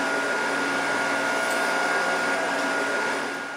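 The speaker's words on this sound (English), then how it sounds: "we're going to hit them on this wheel to brighten them" A buffing wheel at a military medal factory whirs steadily while polishing medals to brighten them, a loud, even motor hum that fades slightly at the end.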